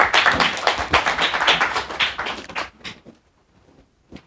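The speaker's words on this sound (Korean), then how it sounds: "박수로 맞이해주시기 바랍니다." Audience applause welcoming a professor onto the stage at a Korean lecture event, a dense burst of clapping for about two and a half seconds that quickly dies away to a few scattered claps.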